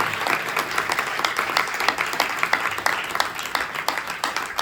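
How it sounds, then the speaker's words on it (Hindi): A church congregation claps together during a preaching service in Doraha, Punjab, a steady dense patter of many hands continuing throughout at moderate loudness. "परमेश्वर के लिए ताली बजाइए, मेरे लिए मत बजाइए"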